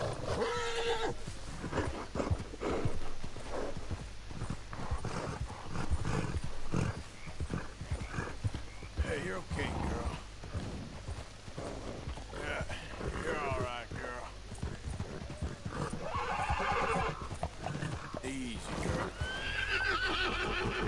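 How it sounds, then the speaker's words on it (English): A horse in Red Dead Redemption 2 whinnying and neighing repeatedly over the clatter of hooves, with game sounds throughout and a person talking over much of it. "Why's the horse freaking out, man?"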